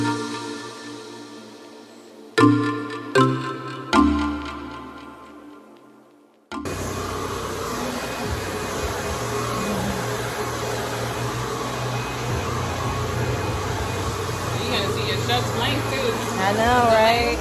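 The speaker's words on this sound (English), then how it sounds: "now she's detangling one last time before we start to blow dry" After a few short knocks and a brief silence, a hair dryer switches on and runs steadily, blow-drying kinky curly tape-in hair extensions with a loud, even whooshing hum that holds for the rest of the clip.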